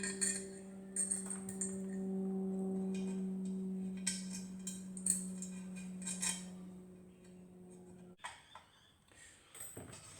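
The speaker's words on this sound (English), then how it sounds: "So we'll get all these spokes in." Metal spokes clinking and ticking against each other and a hub while a motorcycle wheel is laced, scattered light close taps and chinks over a low steady hum, no talk.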